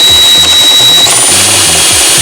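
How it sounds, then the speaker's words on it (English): A drill fitted with a larger bit works on holes for Ducati sport bike winglet mounts, buzzing loudly up close in brief pulsing bursts as the bit cuts. "Now we're coming in with a bigger bit."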